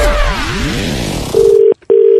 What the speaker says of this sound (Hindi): तो ऐसे ही एक भाई साहब को फोन लगा के बउआ ने भी मजे लिए